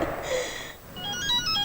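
A mobile phone plays a bright, melodic electronic ringtone, its short chiming notes rising after a brief softer tone, close and moderately loud with no speech.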